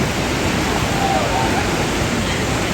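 Fast-flowing river water rushes loudly and steadily, a dense continuous roar close by with no pauses, running through the whole stretch as the main sound.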